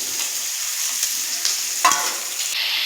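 Chopped tomatoes sizzle and hiss in a hot pan with ginger and garlic for fish curry, a steady close frying crackle with a few stirring scrapes and no voices.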